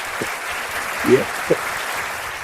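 An audience claps in a steady, dense patter through the whole stretch, with a short spoken word from a man breaking in over it.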